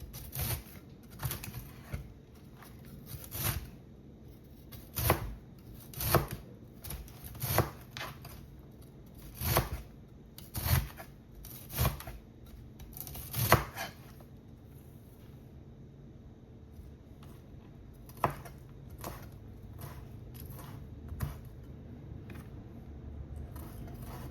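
Steady knife strokes slice through callaloo leaves on a board, a dozen crisp chops in uneven bursts early on, then sparser cuts later, close and distinct with no talking.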